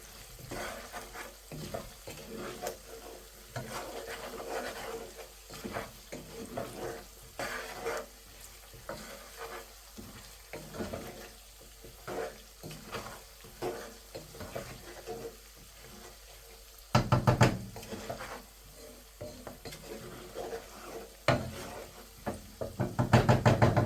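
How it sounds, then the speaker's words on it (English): A spoon stirs potato curry in a pot over the heat, giving repeated scraping and knocking strokes in an uneven rhythm over a soft sizzle, with a few louder clatters near the end and no talking. "we're gonna mix it all up and cook it for about 2 minutes"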